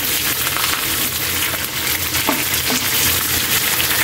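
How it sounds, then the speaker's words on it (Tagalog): Meat fries in its own rendered fat until it browns, giving a steady, loud, dense sizzle with faint crackles throughout and no voices. "Kaili, malapit na siya mag-brown at lumabas na yung mga mantika niya Kaili."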